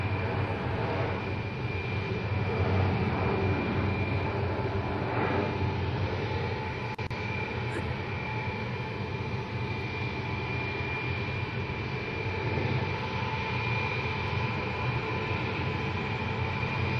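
Large military transport aircraft at Wuhan Tianhe Airport produce a loud, continuous engine roar and whine that fills the whole stretch without a break, with no talk.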